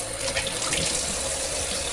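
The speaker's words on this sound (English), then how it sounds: "just soak it with some cold water" Cold water runs steadily from a kitchen tap into a bowl of green olives set to soak, a constant, fairly loud splashing rush with no one speaking.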